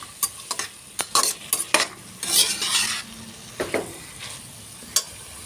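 Potatoes and peas sauté in a pan for a vegetable pulao while a spatula stirs them in quick, sharp scrapes and taps over a steady sizzle, close and clear with no talking.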